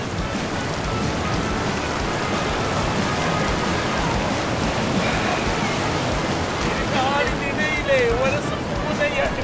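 Water at Elbow Falls in Alberta rushes in a dense, continuous roar throughout, with people talking over it and a high whistling sound near the end.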